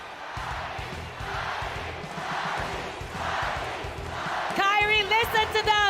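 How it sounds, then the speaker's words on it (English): Esports arena crowd at a grand final cheering and applauding in a steady, loud roar of claps and shouts, swelling in waves, with an amplified announcer's voice coming in over the noise near the end. "Let's give him a big round of applause."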